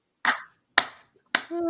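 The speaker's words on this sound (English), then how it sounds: "You guys are clapping." Three separate crisp hand claps from a live talk-show audience, each a lone sharp smack with pauses between, the last followed by a faint sustained tone.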